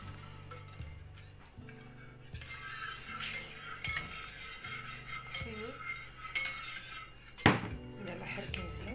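Milk being stirred into apple pie batter in a bowl, with a utensil scraping and clinking against the bowl in steady repeated strokes, close up, while music plays in the background.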